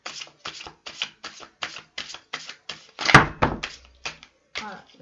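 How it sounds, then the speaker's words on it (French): Playing cards, a Thoth tarot deck, shuffled by hand before a draw: a steady series of short crisp riffling snaps at a regular pace, close and clear, then a louder clattering burst near the end. "je bats mes cartes avant chaque tirage"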